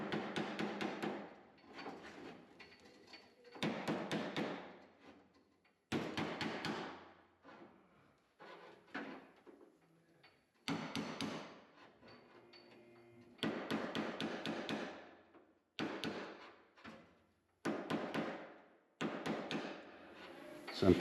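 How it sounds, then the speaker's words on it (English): Repeated metal hammering on a spoon held against a crease in the steel door panel of a 1972 Plymouth Cuda, struck in quick bursts of sharp taps separated by short pauses, close and loud. "And I'm using a spoon here to hammer this crease out."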